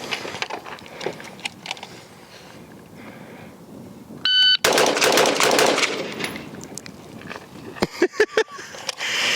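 PSA JAKL rifle firing a quick string of sharp, loud gunshots near the end, after a burst of louder noise with a brief electronic beep from a shot timer in the middle.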